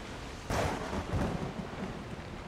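A thunderstorm in the video game Assassin's Creed Odyssey: a sudden loud thunderclap crashes in and rumbles away over a steady hiss of rain, with no voices.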